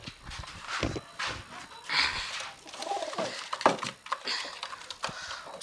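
Pigeons in a pigeon loft coo and flutter close by, with soft scattered calls and brief rustling bursts spread over a few seconds, fairly quiet and without talk.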